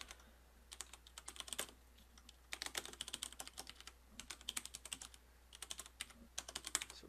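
Bursts of keystrokes on a computer keyboard as a command is entered at a Linux terminal on a CentOS server, quick irregular clicks in several runs with short pauses, close and fairly quiet, no talking.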